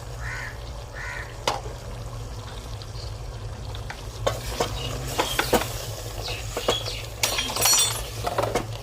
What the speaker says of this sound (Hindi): दही डाला था, तो उसके ना दही के साथ ये इसकी अच्छी तरह भुन गया।